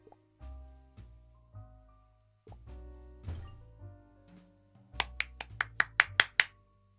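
Hands clap in a quick run of about seven sharp, close claps near the end, over a soft tonal musical background with a few scattered thumps earlier.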